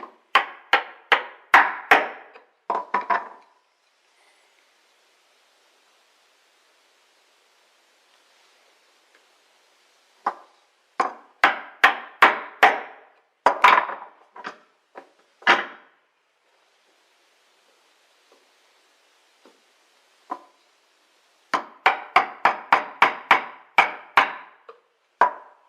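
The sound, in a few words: chisel punching a dovetail cut through wood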